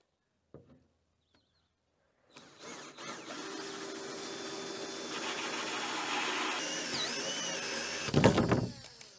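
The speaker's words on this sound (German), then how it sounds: "er bohrt jetzt erstmal die Löcher für die Rohre" A power drill whirs steadily as it bores holes for pipes in an outdoor bathroom build, running continuously for several seconds before a brief louder clatter at the end.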